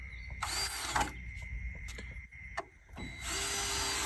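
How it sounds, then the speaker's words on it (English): A power drill drives screws into a Sam's Club Cordova gazebo on a homestead, whirring in several loud bursts with short pauses and the ratcheting of the bit between them. "Putting the screws down in there."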